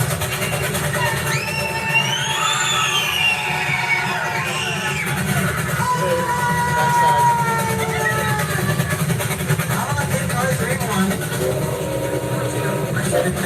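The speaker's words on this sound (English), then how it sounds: "You'll scream as loud as you can" Passengers on a train scream loudly in a dark tunnel, with rising and falling wails over the constant rumble of the engine and wheels.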